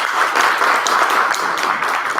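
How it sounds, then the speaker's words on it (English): A crowd applauds the board president at a school district gathering, a steady, full wash of clapping from many people that holds at an even level from start to finish. "Let's give him a round of applause."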